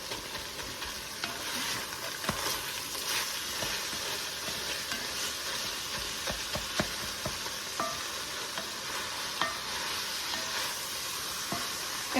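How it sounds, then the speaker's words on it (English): About a pound of ground beef hamburger fries in a pan, a steady close sizzle with scattered crackles and occasional stirring scrapes, no voices. "We are frying a pound, I think it's a pound of hamburger."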